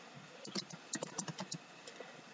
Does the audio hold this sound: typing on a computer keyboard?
yes